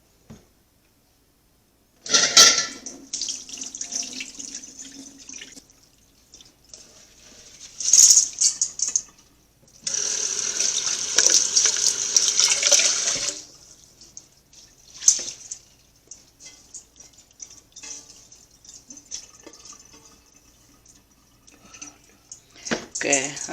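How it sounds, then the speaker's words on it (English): Water straining out of rice soaked overnight, in bursts of splashing, trickling and dripping separated by near-silent gaps, with a longer pour in the middle, close and clear. "Now this rice is soaked overnight, so I'm going to strain the water."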